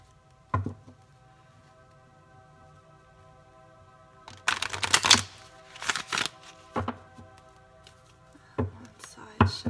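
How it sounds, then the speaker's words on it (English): Tarot cards riffle and snap in several quick bursts, with soft handling noises between them, close by and fairly loud against a quiet room. "We're just going to do 1, possibly 2 more shuffles for you."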